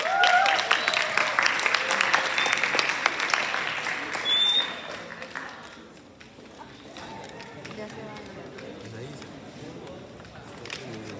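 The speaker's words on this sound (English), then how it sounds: "One more round of applause for our guests." Applause from a school musical audience for guests, loud dense clapping that fades after a few seconds into quieter room noise with scattered voices.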